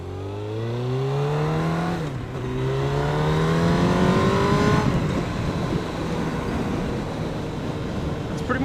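Sport motorcycle engine revving up through the gears on a road, harmonics rising then dropping at each shift, loud and close with wind rush, no talking.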